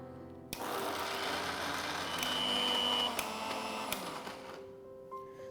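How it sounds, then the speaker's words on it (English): Kitchen mixer grinder blending a hot green peas mixture for kachori filling, a steady close whirring drone that starts abruptly, runs about four seconds and cuts off, with no talk. "So we are going to grind the peas mixture."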